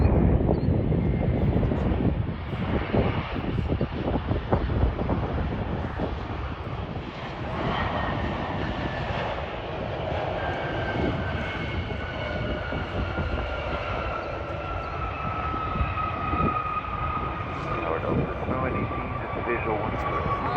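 A fixed-wing airliner landing on runway 12 right at Minneapolis, its engine roar steady and loud throughout with a slowly falling whine, over a constant broadband rumble; radio-style talk runs beneath it.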